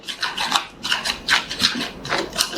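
A barbecue chicken masala marinade, Indian style, is mixed by hand in a bowl, giving rhythmic wet rubbing and squelching strokes, close and fairly loud, repeating about every half second with no talking.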